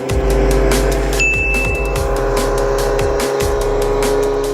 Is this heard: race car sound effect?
yes